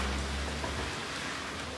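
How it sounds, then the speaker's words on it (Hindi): Steady rain falls outside a home in a dense, even hiss with no breaks or distinct drops, with no one talking. "बारिश हो रही है"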